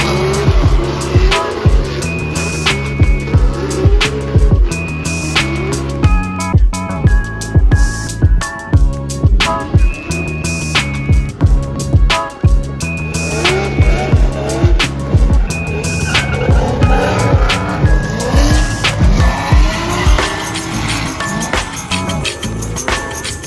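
Drift cars tear around Sebring Raceway at a USDC Pro-Am round, engines bouncing off the limiter in rhythmic bursts while tires squeal and skid loudly and continuously, no voices.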